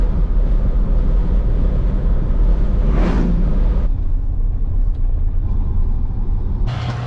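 A farm vehicle's engine runs steadily nearby, a continuous low rumble with a brief louder swell midway, no voices over it.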